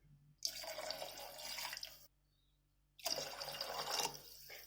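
Water is poured into a pot of rice in two bursts of splashing, each lasting about a second and a half, separated by a short pause. The pouring is close and fairly quiet, with no voices.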